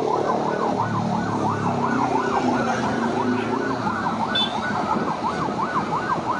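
An ambulance used to search for victims and carry bodies sounds its siren, a loud wailing tone that sweeps up and down in fast regular cycles over road traffic noise, close by and without speech.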